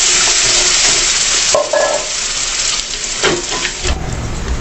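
Water poured into frying semolina halwa while it is stirred, producing a loud burst of hissing sizzle that settles into steady bubbling and spoon scrapes against the pan, close up.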